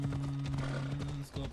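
A horse gallops in the video game Assassin's Creed Odyssey, its hoofbeats brief and steady under someone talking over a constant low hum.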